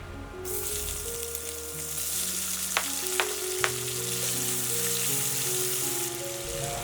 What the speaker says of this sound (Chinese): 炒到火锅底料融化，然后放入洋葱、青椒，翻炒均匀